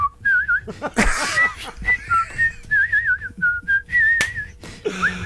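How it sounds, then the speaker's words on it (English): A person whistles a wavering, melodic tune in short phrases, close and clear, with brief pauses and a few background knocks. "we were whistling"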